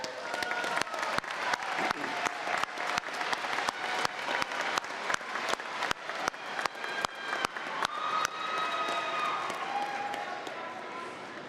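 A commencement audience applauds for families, a broad sustained clapping crowd with sharp loud claps punctuating it, tapering toward the end.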